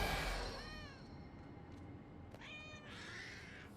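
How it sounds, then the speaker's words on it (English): A cat meows twice in Ark Survival Ascended while the player is in cat form. The calls are quiet and clear, with a pause between them and nothing else over them. "I could turn into a cat."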